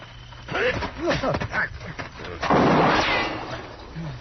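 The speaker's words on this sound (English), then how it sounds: "His gun just went off when you hit him." A gunshot sound effect in an old-time Western radio drama goes off as a loud, broad burst midway, following a stretch of excited male dialogue.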